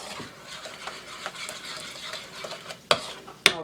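Peach cobbler batter being stirred by hand in a bowl, a soft, steady scraping swirl with a few sharper clinks of the utensil against the bowl near the end; close and fairly quiet, no talking.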